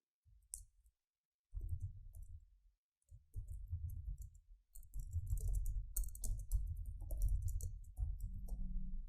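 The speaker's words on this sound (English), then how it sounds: "So let's type the text first." Text being typed on a computer keyboard in steady runs of close, crisp key clicks, with brief pauses between bursts and no talking.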